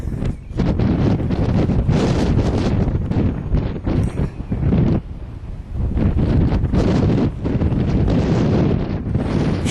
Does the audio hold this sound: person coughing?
no